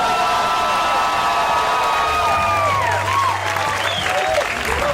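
Comedy club audience applauding a stand-up comedian, a dense, steady wash of clapping filling the room with some cheering and whistle-like whoops rising near the end.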